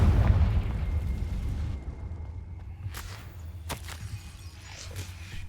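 The Confringo fire spell in the video game Hogwarts Legacy goes off as a deep, rumbling explosion that fades into a lingering roar, followed by a couple of sharp cracking bursts.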